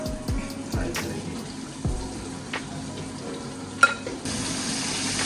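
Chicken pieces fry in a pan for a homemade chicken burger, giving a steady low sizzle with a few stirring scrapes and clinks. A sharp knock comes near the end.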